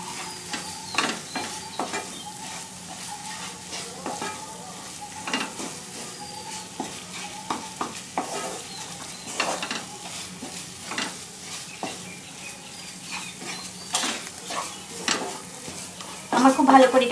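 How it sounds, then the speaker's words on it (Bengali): Chhena being stirred into an egg curry mixture in a pan, with repeated spoon scrapes and clinks against the pan over a soft, continuous sizzle. "এবার ছানাটা দিয়ে আমি এটাকে খুব ভালো করে মিশিয়ে নিচ্ছি।"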